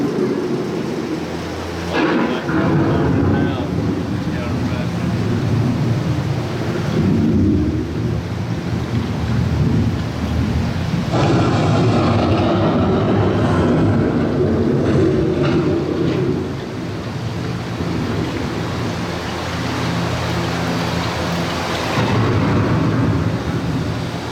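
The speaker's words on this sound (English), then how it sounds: "The approaching storm may seem violent and destructive to us" Steady heavy rain with deep rolling rumbles of thunder building and fading throughout, a continuous loud stormy wash.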